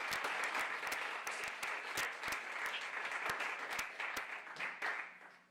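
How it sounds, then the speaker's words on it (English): An audience at an arts and culture event breaks into sustained, full applause, many hands clapping steadily together, with no voices. "Let's give it another round of applause."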